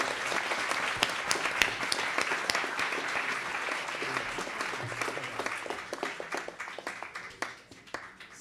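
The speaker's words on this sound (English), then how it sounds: "Round of applause." Audience applause after a talk at a speaker series: sustained, crisp clapping from a sizable crowd that gradually thins and grows sparser toward the end.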